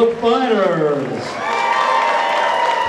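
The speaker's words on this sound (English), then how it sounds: "how about a round of applause for both fighters?" Crowd applause and cheering for both fighters at an MMA event, a broad wash of clapping that rises behind an announcer's amplified voice and holds steady.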